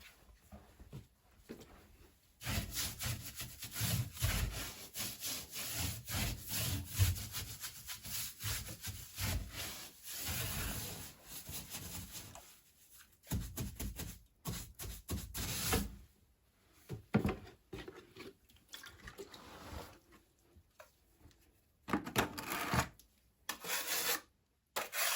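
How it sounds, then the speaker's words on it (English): A brush dampens a wall crack with water, giving soft, close, irregular bristle strokes that come and go in bursts with short gaps. "So just slightly brush just to dampen the area"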